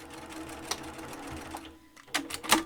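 A sewing machine back tacks fabric in short, close bursts of stitching that stop and restart, with a brief pause before the final runs.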